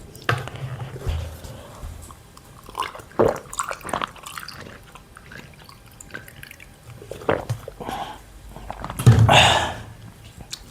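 A physics lecturer in a classroom pauses to drink water, with close, soft gulps, small knocks of a bottle or glass, and a louder handling clatter near the end; no speech.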